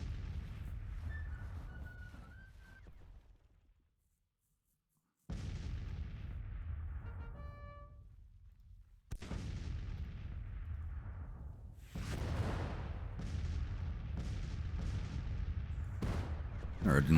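Artillery fire in the Civil War strategy game Grand Tactician, with several heavy booming cannon shots spaced across the span, each ringing out and fading into rumble, one long gap nearly silent.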